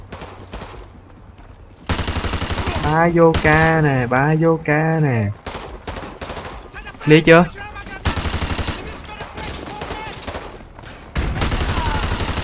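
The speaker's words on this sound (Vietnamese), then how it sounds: "Súng máy nè." Machine gun fire in Call of Duty: Modern Warfare 2 Remastered comes in loud bursts and rattling volleys. A player talks excitedly over and between the shots.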